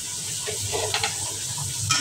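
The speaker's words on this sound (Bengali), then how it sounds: "চিংড়ি মাছটা ভাজা নিই।" Shrimp fry in a pan for noodles, with a constant close sizzle and a few faint stirring scrapes over about two seconds.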